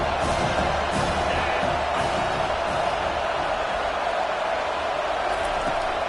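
Football stadium crowd at an Arkansas vs TCU game roars in a loud, continuous wall of cheering and whooping, steady from start to finish.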